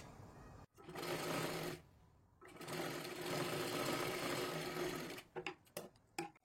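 An electric sewing machine stitches a blouse in loud, steady runs, stopping briefly between bursts, then ending in short choppy starts, close up with no talk.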